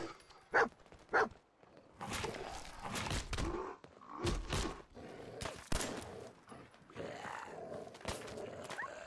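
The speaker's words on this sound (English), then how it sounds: "their erratic movement and Dog Meat dragging them around" Dog companion attacking feral ghouls in Fallout 4, with a couple of sharp barks at the start followed by scuffling, bursts of gunfire and impact noises through the rest.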